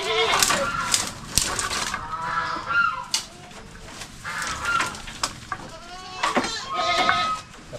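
Goats bleating in their pen on a small farm, several repeated wavering cries close by, overlapping with clucking chickens and bird calls in the background.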